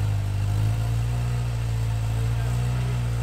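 Off-road vehicle engine idling steadily on rocky ground, a deep continuous low rumble that holds even throughout, close and loud with no talking.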